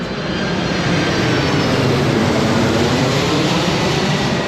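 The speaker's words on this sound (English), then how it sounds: "There goes another one of those planes." A plane passes overhead at a street rod swap meet, a loud, steady broadband roar that fills the whole clip without breaks. Nobody speaks.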